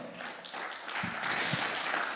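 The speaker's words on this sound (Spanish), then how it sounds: "dale un fuerte aplauso al Señor" Soft, diffuse applause from a church congregation, heard as a faint, steady wash of clapping at a distance with no clear speech on top.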